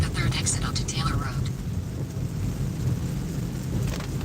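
Rain falls steadily on a car being driven, a continuous broadband wash over low road rumble, with brief voices near the start.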